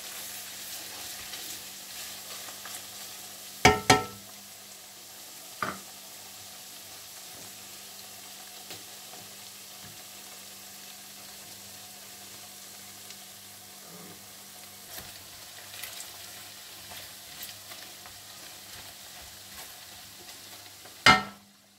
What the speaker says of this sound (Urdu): تھوڑا اس کو بھونیں۔